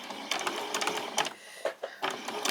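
A sewing machine stitching a doll-sized pair of summer shorts, running forward in a steady close whir, pausing briefly, then stitching backward in short bursts.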